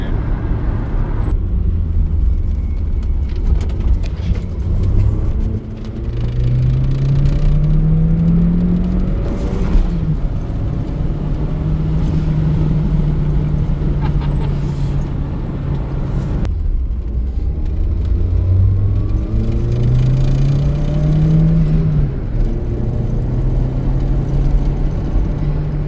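A car engine with a turbo needing repair drones loudly from inside the cabin in fourth gear, its pitch climbing steadily, dropping at a shift, then rising again under the road rumble.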